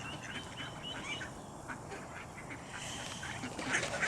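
Mallard ducks and ducklings quack on the Concord River, soft scattered calls from a flock mixed into a broad wash of outdoor water and ambient noise, moderately distant.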